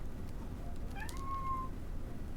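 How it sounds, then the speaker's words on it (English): A single cute, high-pitched cat meow rises and holds briefly over a steady background hum, close and clear with no talking. "It was a very cute cat sound."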